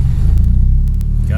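An engine with an MSD ignition box holds on a two-step rev limiter, a loud steady low rumble with faint clicks of the cutting ignition, close to the microphone.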